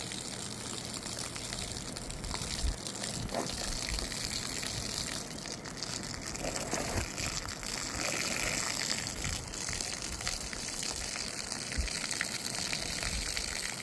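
Water gushes steadily from a rug cleaning machine onto a thick, saturated area rug soaked with pet urine, a continuous close hissing wash without pause.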